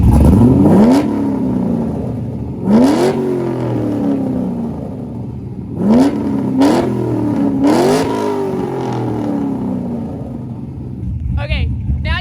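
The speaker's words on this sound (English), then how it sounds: "I'm gonna have him rev it a couple more times and then we'll stop." A drift car engine revs hard several times, each blip climbing sharply then falling back to a rough idle, loud and close, with a voice talking between revs.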